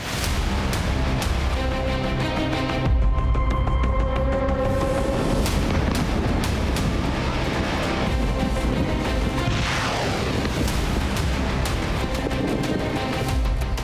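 Artillery fire and explosions from a war between Iran and America, a dense loud series of booms, crashes and sharp impacts rolling one after another, with a falling whistle partway through.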